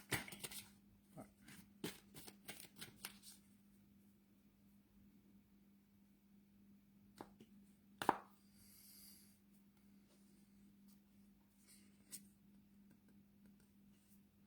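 A deck of playing cards is riffled and shuffled in a quick burst of crisp clicks and flutters at the start, then quieter isolated snaps and taps later, close and soft over a steady low hum.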